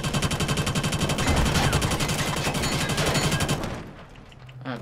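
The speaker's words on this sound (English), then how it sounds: "Who is shooting?" Sustained automatic gunfire in the shooter Killzone Shadow Fall during a team deathmatch in the Slums, a rapid even stream of loud close shots lasting several seconds before cutting off into quiet.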